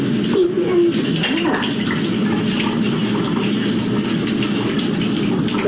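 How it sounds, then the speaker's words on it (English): Produce and a garlic clove being rinsed under a running tap in a workshop setting, a loud, steady gush of water throughout, with a brief spoken word over it. "we're going to give this a good rinse off"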